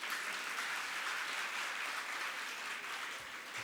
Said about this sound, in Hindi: ये ताली अगर बजानी है तो ढंग से बजाइए।